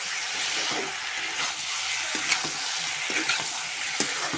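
Chicken pieces fry in hot oil with two bay leaves for a simple chicken curry, a dense continuous sizzle with faint hiss and occasional soft stirring scrapes close by.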